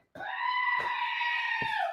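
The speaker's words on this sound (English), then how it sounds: "You missed the screaming goat?" A screaming goat sound effect: one loud, sustained, harsh nasal bleat close up that holds steady for about two seconds, with no other sounds around it.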